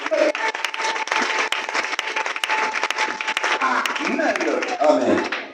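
A congregation applauds at a Sunday worship service in a church, with steady, dense clapping running throughout and voices mixed in beneath it.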